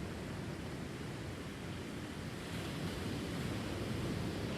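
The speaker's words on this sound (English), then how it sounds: "The waves are coming in." Ocean surf washes onto a beach in a steady, full roar of broadband noise, swelling slightly toward the end, with no voices present.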